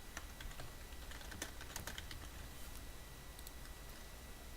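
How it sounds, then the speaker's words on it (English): Rapid, steady keystrokes on a computer keyboard fill the whole stretch with a dense, even clatter of nearby clicks and no talk. "We can just type and type."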